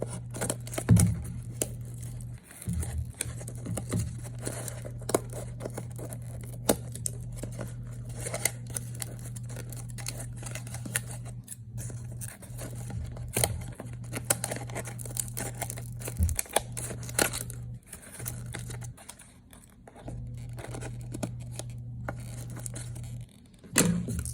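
Scissors trim paper for a papier-mâché sea turtle, with steady repeated snips and rustling at close range over a constant low hum, without talk.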